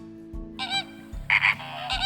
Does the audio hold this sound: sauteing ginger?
no